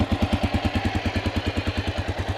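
A 1988 Honda NX650 motorcycle engine idles after a cold start, a steady, close, even thumping pulse with a light mechanical clatter and no voices.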